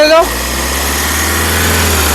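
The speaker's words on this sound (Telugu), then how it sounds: "ఇంజన్ యొక్క నాయిస్ చాలా సైలెంట్గా అయితే ఉంది" A 2016 Mahindra Scorpio S6 Plus diesel engine idles loudly and steadily up close, a deep, even rumble with a slight vibration throughout.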